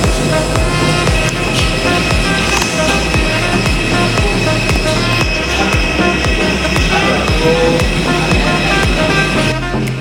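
Aboard a Super Air Jet airliner landing at Soekarno-Hatta International Airport, a loud continuous cabin rumble and roar runs throughout, with repeated rhythmic thumps of wheels rolling over the runway.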